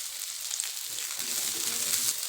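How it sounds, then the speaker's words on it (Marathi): Garlic and ginger sizzle in a hot pan, a steady, soft frying hiss with faint crackles, heard alone and fairly close. "यामध्येच आपल्याला लसूण आणि आलं भाजून घ्यायचं."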